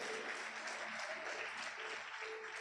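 Church congregation applauding during a family worship service, a steady dense wash of clapping held at an even level throughout, fairly quiet and distant-sounding with no clear voices over it.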